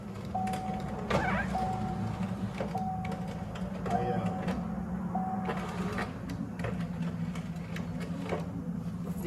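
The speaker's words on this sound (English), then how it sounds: "Yeah, you can just hear that cable wrapping up in there." Power window regulator inside a Chevy Impala door, apparently broken, winding its cable: a whirring motor hum with repeated short mechanical squeaks and clicks as the window moves, heard up close.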